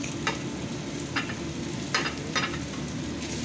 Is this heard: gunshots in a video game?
no